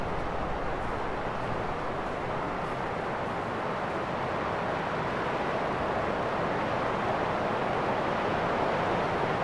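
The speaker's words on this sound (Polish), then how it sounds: "Jakiś wodospad?" A waterfall in the video game Kholat gives off a steady, distant wash of rushing water, an even muffled roar holding at low level with no talking.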